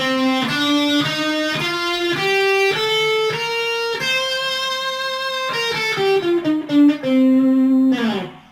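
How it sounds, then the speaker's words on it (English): Clean electric guitar plays a run of single notes up the C Dorian mode and back down, each note distinct and ringing, ending with a final sustained note. "I can play the C Dorian mode like so"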